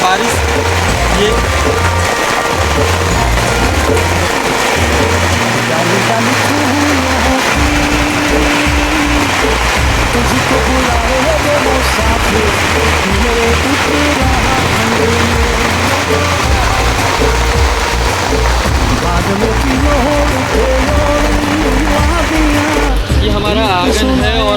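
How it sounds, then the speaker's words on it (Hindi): Heavy downpour drums steadily on the roofs of old houses in a mountain village, a loud, dense, unbroken wash of rain that continues throughout with no voices. "ये देखेंगे दोस्तों पहाड़ों की बारिश, देखेंगे कितनी तेज़ हो रही है, मूसलाधार एकदम से"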